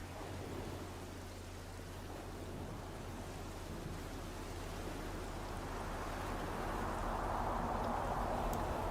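Heavy rain in a TV drama scene, a steady hissing downpour with a low rumbling undertone that swells slightly louder toward the end, with no voices.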